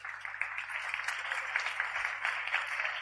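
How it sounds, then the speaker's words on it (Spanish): An audience claps for a woman coming onto a stage, a fairly quiet, even spatter of many hands that stays steady for a few seconds. "Un aplauso fuerte"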